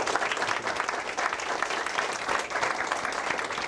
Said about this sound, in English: Let's give Secretary Kerry a round of applause.